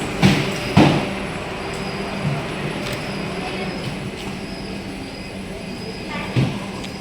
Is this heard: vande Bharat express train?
yes